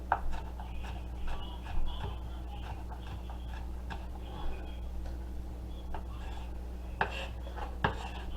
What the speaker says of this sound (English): Watching me chop up these good, delicious veggies that I got going on right now